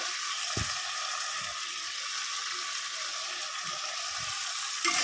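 Spice masala for an egg curry fries in a pan with a steady, even sizzle, joined by a few soft scrapes and clinks of stirring.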